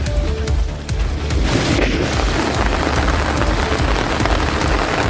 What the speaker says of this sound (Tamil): புதுச்சேரிக்கு உட்பட்ட காரைக்காலில் தொடர்ந்து 7 மணி நேரம் மழை கொட்டியது.